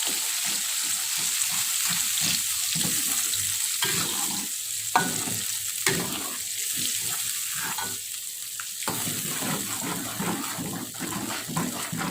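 Sauce ingredients are stirred into sizzling Korean-style spicy fried chicken in a pan, with a constant loud frying hiss and repeated scraping stir strokes throughout.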